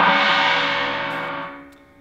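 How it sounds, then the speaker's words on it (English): A China cymbal, a special kind of suspended cymbal, struck once and left to ring, its bright, trashy wash loud at first and slowly decaying over about two seconds with no talk. "This is a what's called a special kind of suspended cymbal called a China cymbal."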